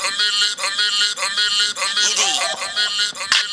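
Music with a bassy beat playing through the small speaker of a Sony Xperia X10 Mini phone, thin and bright, continuous for a few seconds with no talk over it.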